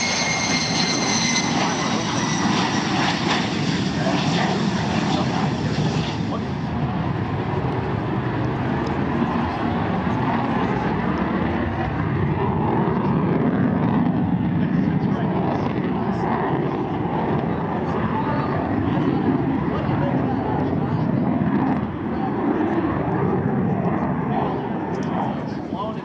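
An aerobatic airplane drones loudly and continuously as it descends during an afternoon airshow at EAA AirVenture 2022 in Oshkosh, Wisconsin. An announcer talks over the engine and crowd.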